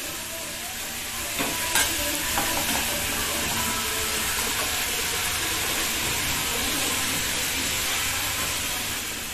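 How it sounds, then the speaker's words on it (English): Marinated taro root pieces stir fried in a pan give a steady, moderate sizzle with occasional stirring scrapes near the start, running without talk. "So all I have to do is just stir fry it now."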